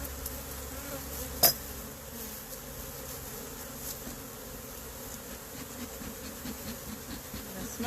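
Honey bees buzzing around a hive frame holding honey and bee bread, a steady close drone of many insects with one brief louder knock partway through.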